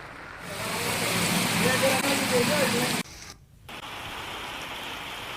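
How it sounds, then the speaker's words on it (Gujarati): Dense, steady hiss of heavy rain pouring down, with a faint voice underneath and a brief dip in the noise partway through. "ધોધમાર વરસાદ શરૂ થયો છે"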